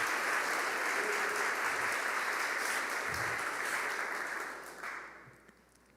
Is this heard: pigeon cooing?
no